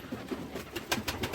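Pigeons coo softly in a loft, a run of low, throaty, repeated calls heard close up with faint rustling between them.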